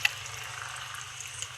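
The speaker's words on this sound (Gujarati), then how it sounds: "એમ તો ઘણું પાણી આવે" Water gushes steadily from a motor pump outlet on a farm, a continuous close splashing rush with a low mechanical hum beneath it and no voices.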